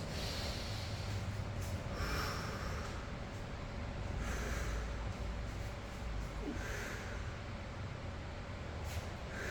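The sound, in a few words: heavy breathing during exercise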